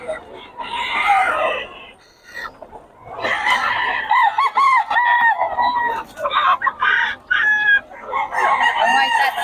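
Roosters and chickens for sale at a Bocaue poultry market crow and cluck repeatedly and loudly, with overlapping calls from several birds close by and a seller's voice breaking in now and then.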